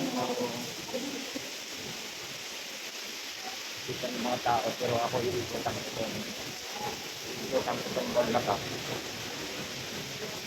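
Steady broadband hiss of heavy rain pouring down, with a person talking over it throughout.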